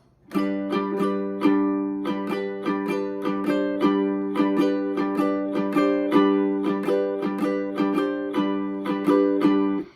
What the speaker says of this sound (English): It's a fairly quick strum pattern. It's done on a G,